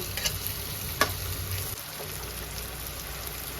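Square-cut green jackfruit pieces are lightly fried in a pan, giving a continuous close sizzle with occasional stirring clicks and scrapes and no talking.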